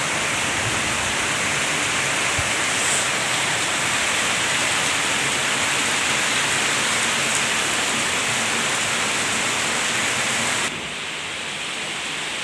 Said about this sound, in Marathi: इथं खूप दिवसापासून खूप पाऊस चालू आहे